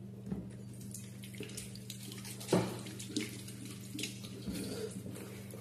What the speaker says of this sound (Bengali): আমি হাত ধুয়ে ফেললাম